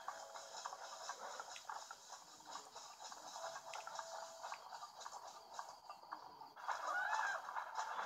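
Birds chirp in the video game Zelda: Breath of the Wild. The calls are faint and scattered over a quiet outdoor ambience, with a slightly clearer burst of chirping near the end.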